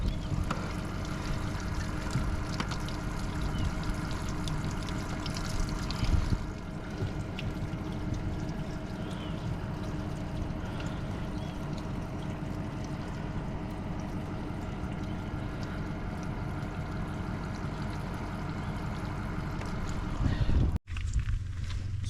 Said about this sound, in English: we're also going to take this opportunity to drain the plugs of the hull